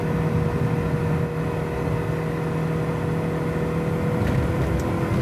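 A Mini Cooper S, a teenage driver's first car, drives along with a steady, loud engine drone and road rumble from inside the cabin, the tone holding evenly throughout.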